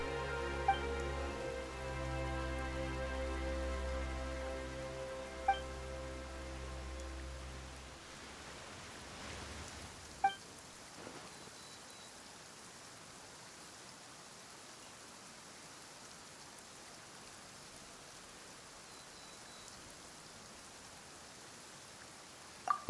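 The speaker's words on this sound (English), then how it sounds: "Why is it raining all of a sudden?" Steady soft rainfall patters in a video game, beginning under a fading low musical drone and then continuing alone as an even wash, with a few faint clicks.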